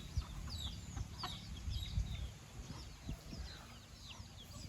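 Farm chickens, a hen among chicks, cluck in short scattered bursts with faint high peeps, moderately close, steady rustling background and no talk.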